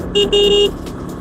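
A Bajaj Pulsar N160 motorcycle horn honks twice, a short beep followed by a longer steady blast, loud and close against a quiet idle.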